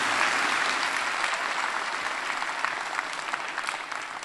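Audience applause at the Mauritius Cinema Week event, a broad sustained round of clapping from a large crowd, slightly distant and fading a little toward the end.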